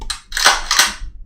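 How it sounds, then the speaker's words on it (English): Two sharp cannon blasts from a sound effect on a live stream, each a quick bright crack with a short decay, fired close together and loud. "Ready the cannons."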